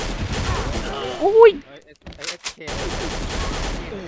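Rapid rifle fire from the Silver ARX16 in the shooter game XSHOT crackles in bursts, with a person talking over the shots and a short quiet gap midway.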